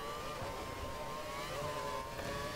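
Formula 1 car engine in the racing game F1 2012, a high, tonal engine whine holding near-steady pitch with slight wavering, fairly quiet and continuous.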